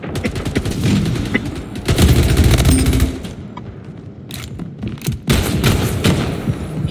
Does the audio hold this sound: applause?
no